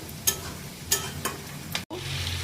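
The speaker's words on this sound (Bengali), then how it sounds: "এগুলো ভালো করে আমি খুন্তির সহায়তায় ধীরে ধীরে মিক্স করে নেব" A spatula stirs tomatoes in a hot pan, making several distinct rhythmic scrapes over a soft, continuous sizzle, with a brief sudden dropout near the end and no voices.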